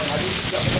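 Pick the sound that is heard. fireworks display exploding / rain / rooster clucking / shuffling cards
rain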